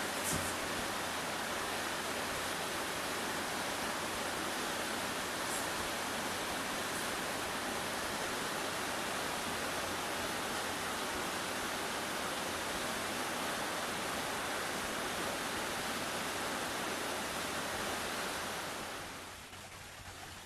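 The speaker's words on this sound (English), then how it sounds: "here's another one, another waterfall just a little ways up from that one" A waterfall near Avalanche Lake in Glacier National Park, Montana, roars as a steady, dense wash of rushing water that stays close and loud throughout, fading slightly only at the very end.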